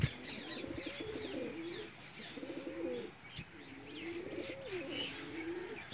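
A flying tournament pigeon coos in repeated throaty, rolling phrases, with three distinct bouts at a moderate distance over light background noise and no speech.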